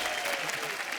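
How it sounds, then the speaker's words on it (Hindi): A studio audience at a comedy TV show claps in a brief, dense burst of applause, loud and continuous. "तालियां भाई।"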